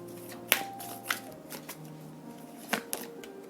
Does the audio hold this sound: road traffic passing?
no